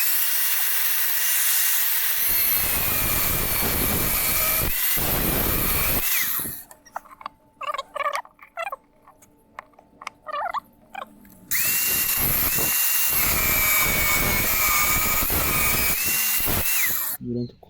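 A power tool cutting a metal piece for a homemade bench vise whines in two long loud bursts, separated by a quieter pause filled with clatter and handling noises.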